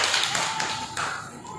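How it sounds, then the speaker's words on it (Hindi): Children clap their hands together in a classroom, a short burst of quick, uneven claps under faint background voices. "सभी बच्चे ताली बजाओ"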